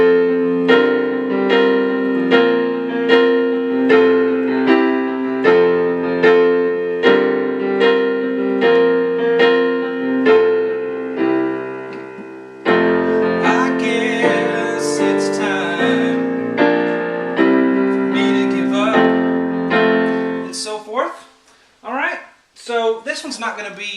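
Piano plays a song, repeating the same chords in a steady pulsing rhythm, loud and close, thickening midway before trailing off into brief scattered sounds at the end.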